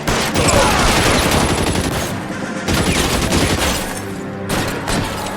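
Video game gunfire pours out as sustained, dense automatic bursts, loud and close, with a brief lull midway and no speech.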